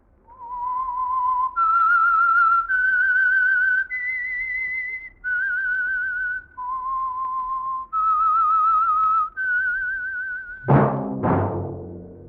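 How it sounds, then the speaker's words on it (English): A lone whistler carries the eerie, wavering theme of The Whistler radio mystery program, sustained clear notes rising and falling in a slow melody, close and steady, then a sharp orchestral sting at the end. "That whistle is your signal for the Signal Oil program, The Whistler."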